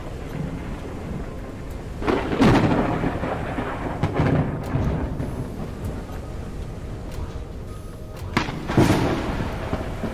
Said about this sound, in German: Gewitter ist ja mal hardcore.